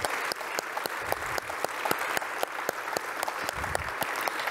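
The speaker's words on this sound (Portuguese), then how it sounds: "Uma salva de palmas a todos vocês." A round of applause for those gathered at a church event on people with disabilities, a fairly small group clapping with distinct, uneven hand claps that stand out from a moderate steady patter, with no talking.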